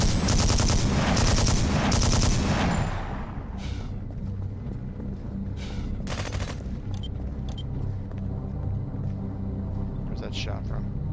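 Video game gunfire rattles in loud rapid automatic bursts for the first few seconds, followed by scattered quieter shots and rumbling, with a voice talking underneath.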